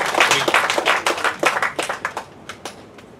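Applause from a congregation during a church service in Saint Petersburg, Russia: scattered, uneven clapping from a modest group that thins out and trails off to a few last claps near the end.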